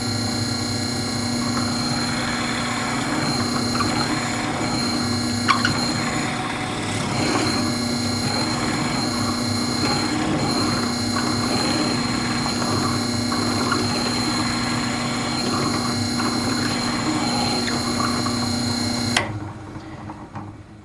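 A Forstner bit bores into wood under a loud, steady drill motor whine that runs for most of the stretch before cutting off abruptly near the end.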